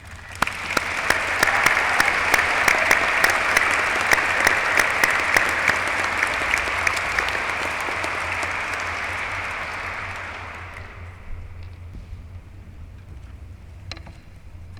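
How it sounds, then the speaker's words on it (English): Commencement audience at a University of Richmond School of Law ceremony applauding award recipients, a broad sustained wash of clapping that holds strong for several seconds and then gradually thins and fades toward the end. "I welcome your applause as we congratulate them for their hard work and dedication."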